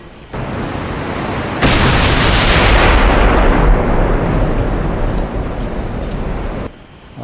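Battleship gunfire in the naval strategy game Ultimate Admiral Dreadnoughts, with American and Japanese battleships trading fire: a loud, sustained roar of big-gun blasts merges into a rumbling wash with sea noise for several seconds, then cuts off.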